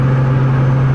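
A Cummins diesel truck drives along with a failing injector and low fuel pressure, its engine giving a loud, steady, low drone that holds without a break, with no talking.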